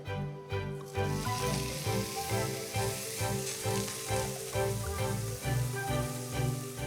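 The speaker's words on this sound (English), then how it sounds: "expect quite a bit of sizzling when I put it in" A loud, steady sizzle of steak searing in a hot pan begins abruptly and keeps crackling close up, with a faint musical tone underneath.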